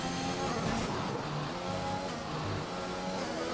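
Race car engine on the Monaco circuit in a racing video game, a steady droning whine running continuously at moderate level with no clear gear changes, heard without voices.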